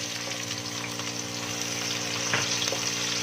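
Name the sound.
onions frying in hot oil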